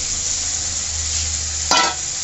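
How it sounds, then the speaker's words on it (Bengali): Mutton frying in hot oil for Bengali kosha, a constant loud sizzle with one brief scraping stir near the end. "যতক্ষণ না তেল ছাড়ছে ততক্ষণ আমি কষবো এটাকে"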